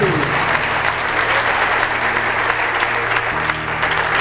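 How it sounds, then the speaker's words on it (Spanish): Church congregation applauding during a Spanish-language sermon, a steady, dense wash of clapping that holds at even loudness for the whole stretch, with crowd noise and no clear talk on top. "Dale un aplauso al Señor."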